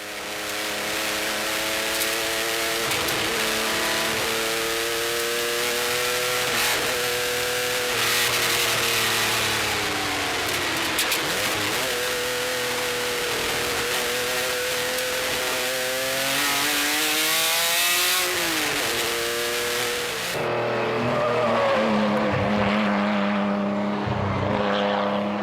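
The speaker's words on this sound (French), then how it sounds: "Nous sommes à bord de la Maserati A6 CGS 55 de l'équipage allemand von Schenk Rimbock." Maserati A6 CGS 55 racing car from the 1950s driving on the Tour Auto rally, its engine loud and close throughout, revving up and down in repeated rising and falling sweeps as it works through the gears.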